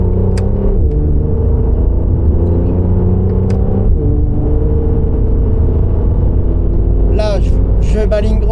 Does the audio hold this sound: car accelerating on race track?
yes